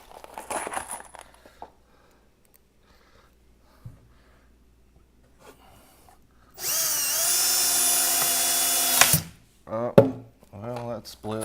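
A power drill drives into wood while building shelf runners for a rolling tool cart, one loud sustained burst lasting a couple of seconds, with someone talking before and after it.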